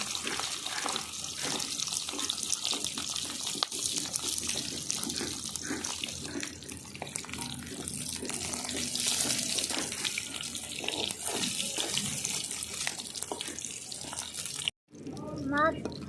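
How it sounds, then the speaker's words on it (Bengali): Tap water runs hard and steadily into a kitchen sink while things are washed during cooking of a Bengali mrigel fish curry. The splashing is loud and continuous, then cuts off abruptly near the end. "আমি আবার ধুয়ে নিচ্ছি সব"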